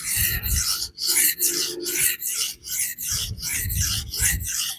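A Shan Zu Peafowl EDC knife is sharpened on a budget diamond plate: loud, close, rhythmic rasping strokes, about eight back-and-forth passes, with no talking.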